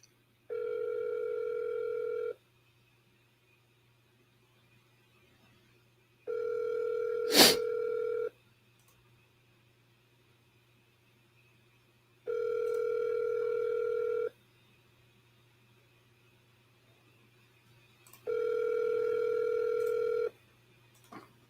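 A telephone rings back while calling a seller, with four steady two-second tones spaced evenly apart over a low hum and a single sharp click between the first pair, with no talk.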